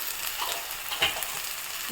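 Spiced brinjal mixture for begun bhorta fries in a pan with a steady broadband sizzle, and a few soft scrapes of stirring sound up close, with no voices.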